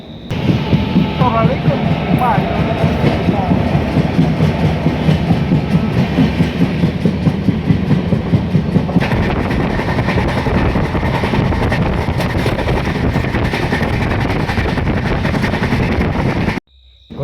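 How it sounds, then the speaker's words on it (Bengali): The 12988 Sealdah SF Express passenger train runs from Ajmer toward Sealdah, its wheels clattering in a steady, loud rhythm over the rails with constant rumble and wind rush before the sound cuts off abruptly near the end. "নটা চব্বিশ আমাদের ট্রেন ছেড়ে দিয়েছে"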